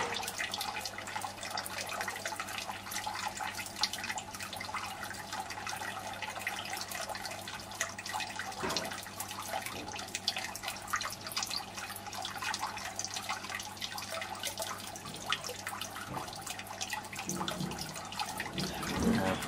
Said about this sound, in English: So after the drip flow, you will get the pre-flush flow.